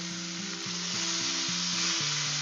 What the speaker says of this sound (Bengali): এরপর আমি একে শুধু নাড়াচাড়া করব আর একটু করে চাপা দেবো, দিয়ে এটাকে ভালো করে কষিয়ে নেব